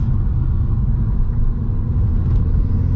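Mk1 SEAT Leon Cupra R on Michelin Pilot 4S tyres, its engine pulling hard under acceleration as a steady, loud low rumble with road and tyre noise, heard from inside the cabin with no talk.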